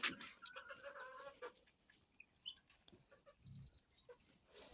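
Harsh, rapid clucking calls from guinea fowl, loudest at the start, then scattered fainter chatter and a few short cries in a quiet outdoor setting.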